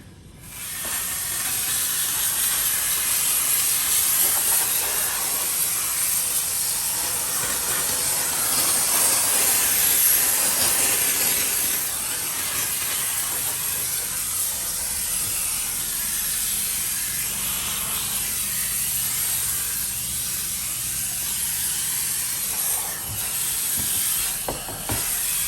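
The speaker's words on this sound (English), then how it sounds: "If you have some heavier, really dirty door panels, you could scrub with the brush and you can steam." A McKee's 37 VX5000 steam cleaner is used on a Tesla's interior door panels, giving a loud, continuous hiss of steam that holds steady and softens slightly near the end.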